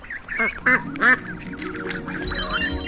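Three loud, nasal duck quacks come in quick succession, followed by softer background chatter and faint musical tones.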